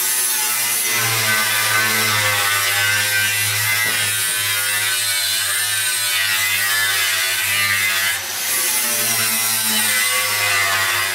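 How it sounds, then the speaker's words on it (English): A sanding disc tidies the freshly cut edge of aluminium boat sheet, giving a steady loud droning whine that runs unbroken for the whole stretch and dips only briefly once. "just grab the sanding disc"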